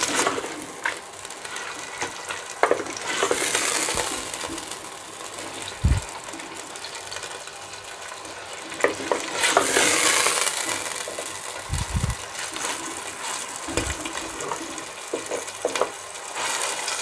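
Minced meat (qeema) fries and is stirred in a pan in a home kitchen, giving a steady close sizzle with scattered scraping and knocking from the spoon, plus a few sharper clacks against the pan.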